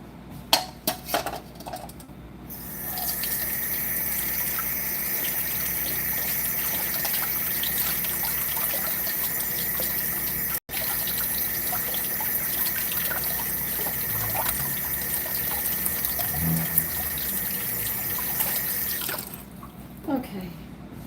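Tap water runs steadily into a cooking pot for soaking after a batch of salted nut rolls, a constant loud rush lasting most of the stretch, with brief clatters before it starts and after it stops.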